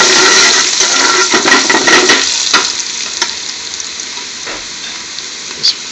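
Chopped garlic frying in a pan, a loud hissing sizzle with stirring and scraping at the start that settles into a quieter steady crackle.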